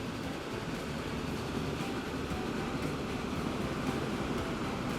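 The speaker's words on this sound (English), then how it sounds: "watch the train go by" A steam locomotive train in the video game Transport Fever 2 rolls past on a Mississippi mainline, a continuous low rumbling roar of wheels and cars that holds steady throughout without speech.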